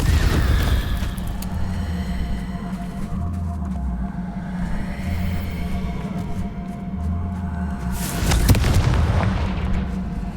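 A Confringo spell explosion in the video game Hogwarts Legacy, a deep booming blast followed by rumbling, with a second sharp burst toward the end, loud and near, no talking.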